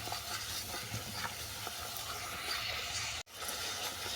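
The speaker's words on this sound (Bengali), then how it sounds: "আরও 2 মিনিট আমি কষিয়ে নেবো এটাকে।" A spice mixture of ghee and garam masala fries in a pan, giving a soft continuous sizzle with faint stirring scrapes, quiet and close, with a brief dropout near the end.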